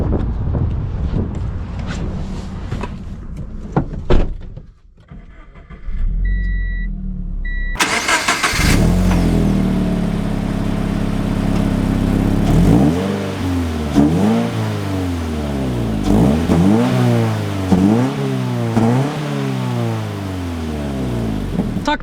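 A Subaru BRZ engine cranks and fires up, settling into a steady idle, then revs repeatedly in rising and falling sweeps as the car pulls away, loud and close with some wind buffeting.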